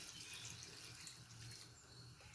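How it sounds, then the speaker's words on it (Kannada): Water poured into a pressure cooker with dal, beans and greens for Kannada upsaaru, a faint, steady running pour throughout, close but quiet, with no voices. "ಈಗ ನೀರು ಹಾಕ್ಕೊತಾ ಇದ್ದೀನಿ."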